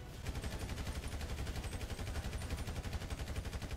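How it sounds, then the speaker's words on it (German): Rapid automatic gunfire aimed at the player in a video game, a fast, even stream of shots that runs throughout, fairly faint and distant-sounding, with no talking. "Ey, wer schießt denn auf mich hier?"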